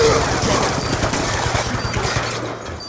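Dense gunfire from a shooter video game, a continuous loud fusillade of rapid shots running for a few seconds with no break.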